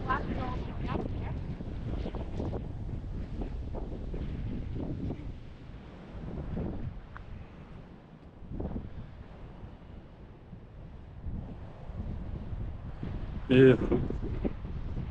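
Ocean waves surging over rocks on a windy coast at Luck Bay near Esperance, rolling in and receding under heavy wind buffeting on the microphone, with a few words spoken and a brief sharp noise near the end.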